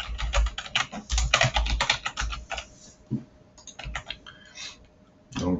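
Rapid typing on a computer keyboard while writing Visual Basic code, dense clusters of clicking keystrokes in bursts with short pauses, close and clear.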